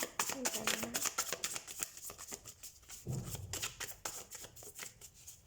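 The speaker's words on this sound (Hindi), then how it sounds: "सो हम कार्ड शफल कर लेते हैं।" Tarot cards are shuffled in quick riffling bursts, crisp close flicks and slaps repeating in a fast rhythm, with a voice talking softly in between.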